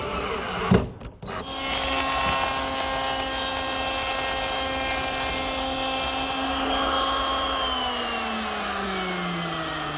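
A power drill driving screws into the top frame of a wooden barrister bookcase, a steady whirring drone running nearly continuously after a brief knock at the start.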